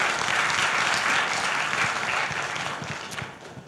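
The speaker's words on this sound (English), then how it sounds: "Round of applause, please." A conference audience claps steadily in a dense burst of applause after a technical presentation, gradually fading toward the end.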